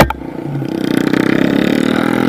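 A pit bike engine drones steadily and builds while riding out toward a muddy hill climb. Its fast, buzzing firing pulses are loud and close, with scraping and clatter at the start, and no one speaks.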